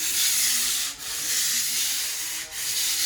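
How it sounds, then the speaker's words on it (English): A pole sander with 120-grit paper rubs up and down a wall, a steady close scraping hiss with two brief dips where the stroke changes direction. "So you just grab your pole sander and"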